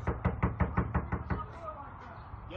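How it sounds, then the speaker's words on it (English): Fist pounding on a door, about eight loud, rapid, evenly spaced heavy knocks close by, followed by a few seconds of room tone with faint voices in the background. "Don't you ever beat on my goddamn door like that."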